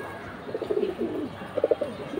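Pigeons from a flying breed coo softly nearby, with two bursts of low, throaty rolling calls separated by a short pause.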